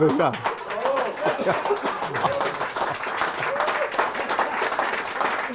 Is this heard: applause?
yes